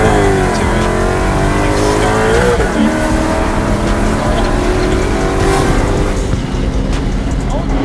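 A Ford Mustang-style V8 car with full exhaust and an X-pipe, 3-valve setup, revs loudly up and down, engine note rising and falling near the listener, with a voice talking over it.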